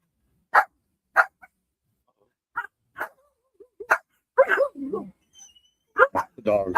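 Dogs at a rural home give several sharp separate barks and yips, followed by whining and whimpering toward the end, all fairly close with quiet gaps between.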